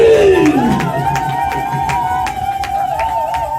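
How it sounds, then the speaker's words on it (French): A church congregation cheers and acclaims Jesus, a loud, sustained crowd roar with shouts and a long rising-and-falling voiced cry running across the whole stretch. "on acclame Jésus"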